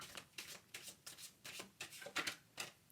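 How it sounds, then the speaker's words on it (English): Tarot cards being shuffled in quick riffling bursts, about eight short rustling flurries in a steady rhythm, close but fairly quiet, with no voices. "let's shuffle a little more"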